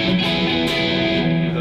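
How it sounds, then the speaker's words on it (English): An Ibanez Jem 7VWH Steve Vai signature electric guitar played through a heavily distorted lead channel, giving a loud, dense, sustained saturated tone with no talking over it. "I'm on a very distorted channel here that's meant for lead playing"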